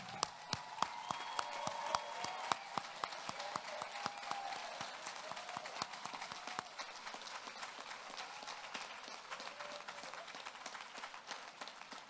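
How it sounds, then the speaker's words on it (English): An audience at a school graduation ceremony claps for parents, a fairly faint, scattered applause of distinct sharp claps that thins out gradually over the span. "I'd like to give them a big round of applause because we know how important they are"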